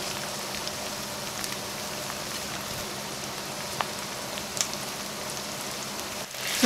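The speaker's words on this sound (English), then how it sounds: "Fry the meat on high flame to seal it and to preserve the flavor." Venison meat fries in a pot over high heat, giving a constant, dense crackling sizzle with a few small pops and a brief clatter near the end.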